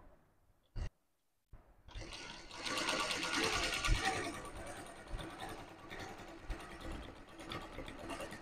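A zigzag sewing machine stitches in a continuous whirring run after a few brief clicks and a short pause, its rhythmic needle chatter steady and close, with a voice speaking faintly.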